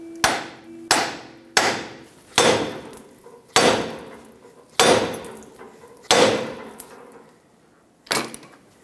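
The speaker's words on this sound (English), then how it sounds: "take a hammer, hit the knuckle right here" Hammer blows on the steering knuckle of a 1996-2002 Toyota 4Runner to break the tie rod free, about eight loud, sharp metallic strikes at a steady pace, each ringing briefly, close and with no talk.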